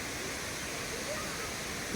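Lakkam waterfall and stream in Munnar, Kerala, roar as a steady, dense rush of falling and flowing water, close and constant for the whole stretch with no break.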